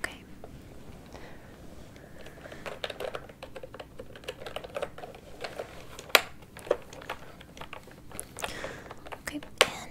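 Quick, close typing on a computer keyboard in a library job interview roleplay, with steady clattering keystrokes and a few sharper louder taps, heard alongside soft whispered speech.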